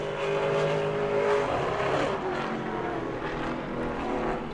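A Pro Late Model race car roars past during qualifying at New Smyrna Speedway, its engine note loud and close, swelling and then easing slightly as it comes off the final turn, with no talk heard.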